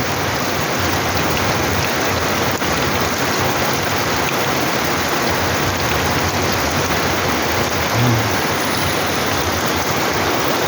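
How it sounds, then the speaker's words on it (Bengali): A heavy downpour hisses continuously and loudly, a thick, even wash of rain with no talking. "কিসের বৃষ্টি হচ্ছে আজকে!"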